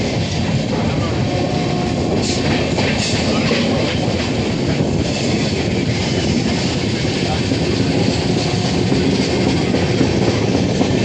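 Pinakini SF Express train rolls steadily along the tracks near Gudur, a loud continuous rumble with clickety-clack wheel noise and rushing wind throughout.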